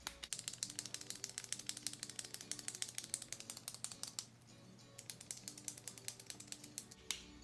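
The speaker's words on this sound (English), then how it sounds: "all I'm doing is clicking the bottom here, trying to get the product up into it" Clicking the bottom of a lip gloss pen to push product up, producing a rapid, steady train of small plastic ratchet clicks, close and quiet, with a brief pause midway before clicking resumes.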